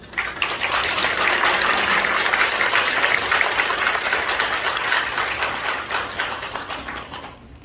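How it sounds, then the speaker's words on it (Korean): A church congregation in Korea claps steadily and loudly throughout, welcoming a pastor at a 45th-anniversary ordination service; the dense applause fades slightly toward the end with no talking. "우리 목사님 나오실 때 우리 큰 박수와 함께 축복하며 맞이하도록 하겠습니다"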